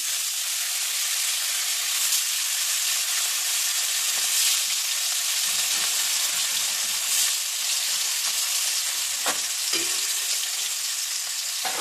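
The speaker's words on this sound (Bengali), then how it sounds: "এবার মাছগুলো আমি ছেড়ে দেবো তেলের মধ্যে।" Pieces of katla fish fry in hot oil in a pan, a loud, dense, continuous sizzle close up with faint crackles and occasional stirring scrapes, and no talking.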